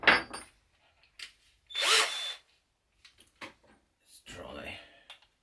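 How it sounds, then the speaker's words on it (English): A Mailtank cordless power drill with a blunt bit runs in short bursts, each a high whirring whine lasting under a second, separated by quiet gaps and some talking. "It's a pretty blunt drill, but you can see it's got plenty of torque."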